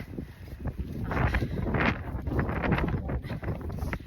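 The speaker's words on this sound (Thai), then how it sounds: "ต้านทานกับลมพายุนิดหน่อยค่ะ" Strong stormy wind sweeps across snowy ground in Iceland, roaring and buffeting the microphone in loud, uneven gusts. No voices are heard.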